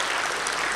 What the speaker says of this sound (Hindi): ताली बजाओ, इसमें ताली बजाओ